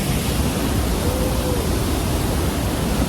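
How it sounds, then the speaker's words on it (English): Steady, dense roar of a high mountain waterfall in Xinjiang, loud and continuous with no breaks, filling the whole stretch without any voices. "look at this insane waterfall"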